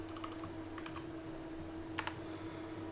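Fingers type on a computer keyboard in short bursts of crisp clicks with pauses between them, set against a steady low electrical hum in a quiet room.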